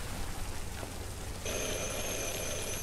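A doorbell in the video game Detroit: Become Human rings like an old telephone, a steady bright electronic tone that starts about halfway through and holds over a soft, rain-like hiss.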